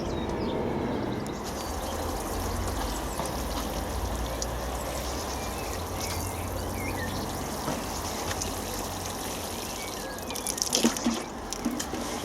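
Watering pea seed trays set in a gutter filled with compost, a soft continuous patter and trickle of water soaking in, fairly quiet and steady with a few louder splashes near the end.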